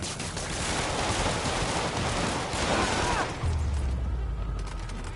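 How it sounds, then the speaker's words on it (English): Dense, crackling bursts of rapid gunfire in the Spider-Man video game rattle nonstop over a noisy, booming background, loud and chaotic throughout. "There's bloody gunfire everywhere."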